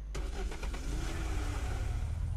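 Car engine in the survival video game Unturned starting and pulling away, a sudden loud onset followed by a rough revving rumble that rises in pitch as the vehicle drives off, no voices.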